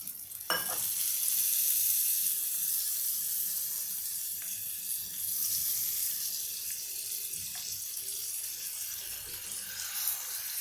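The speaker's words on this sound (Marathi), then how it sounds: "थोडंसं पाणी आपण टाकूया" Water poured into a cooking pot holding eggplant and potato pieces for Afghan borani baingan, a steady close hissing splash that runs throughout with a few soft knocks, and no talking.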